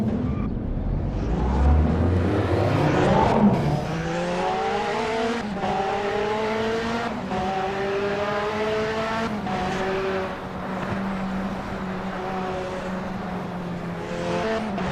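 Lola B05/40 AER LMP2 race cars at a race start in a racing video game, a dense pack of engines revving hard and upshifting together, loud and close, with pitch climbing in overlapping sweeps.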